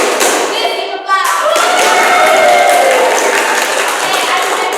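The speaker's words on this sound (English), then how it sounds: "Please give a clap." A classroom full of pupils clapping hands together during a lesson, producing a dense, continuous patter of claps that runs throughout, with voices heard alongside.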